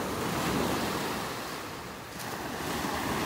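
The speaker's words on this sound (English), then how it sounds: "we got a few waves breaking on shore here" Ocean waves breaking on shore at a beach in North Naples, Florida, a continuous broad wash of surf with gentle swells and some wind rumble on the microphone, no voices.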